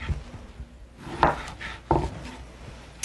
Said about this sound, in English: I'm just going to make some nice slices, just like that